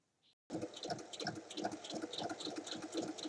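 After a brief silence, a sewing machine starts topstitching along each side of a fabric bag, a close, steady rapid mechanical whirr with a regular stitching rhythm that runs without pause.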